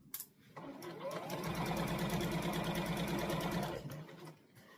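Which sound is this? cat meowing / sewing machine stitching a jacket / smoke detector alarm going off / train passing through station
sewing machine stitching a jacket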